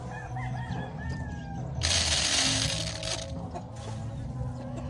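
A rooster crows on a chicken farm, a loud, fairly close cock-a-doodle-doo partway through, with softer clucking and other fowl sounds around it.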